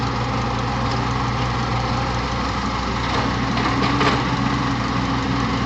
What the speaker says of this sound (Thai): รถไถต้องได้รอนะฮะ เพราะว่าใกล้ๆครับ